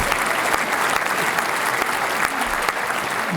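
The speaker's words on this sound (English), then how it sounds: "Golf clap?" Steady applause from an audience at a skateboarding event with a raffle, dense and sustained with whoops and crowd noise mixed in throughout.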